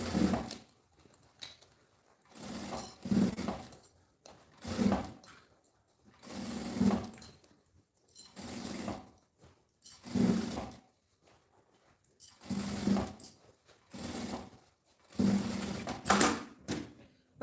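Sewing machine stitching a seam all the way around a lining, in short repeated bursts of whirring separated by brief pauses, close and fairly quiet.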